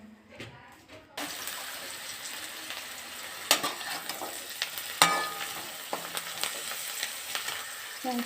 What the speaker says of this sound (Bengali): কড়াই তেল গরম হতে দিয়ে